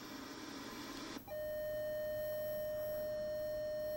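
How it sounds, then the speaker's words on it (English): A 1990s Channel 5 signal generator feeding a TV puts out a steady pure audio tone that starts after a burst of hiss and holds evenly at moderate level against quiet background noise. "if you can hear in the background, there's an audio tone"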